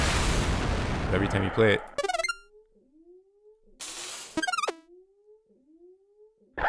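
A short procedurally generated game melody of quick bright synthesized tones plays twice, each run followed by a sliding pitched tone, with a voice talking at the start.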